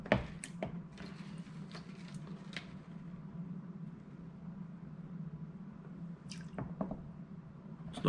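Water sloshes and swirls in a gold pan outdoors while fine gold is worked down, giving soft wet squishes and occasional sharp drips and splashes over a low, quiet background rumble.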